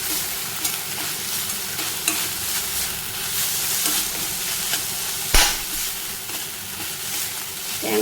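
Banana flower stir-fry with grated coconut being stirred in a pan, a steady soft sizzle of frying under repeated scraping strokes of a spoon, with one sharper knock near the middle.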